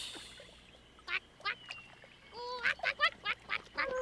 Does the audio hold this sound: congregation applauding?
no